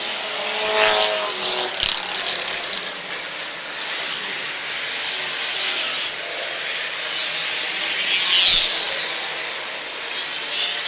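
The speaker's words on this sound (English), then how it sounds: "There are still a bunch of cars that are getting around here pretty darn good." Enduro race cars circle the Airborne Speedway oval in Plattsburgh, NY at an end-of-season event, a steady broad roar of several engines and tire noise with brief swells as cars pass near.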